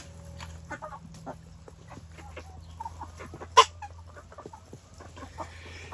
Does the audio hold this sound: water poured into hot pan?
no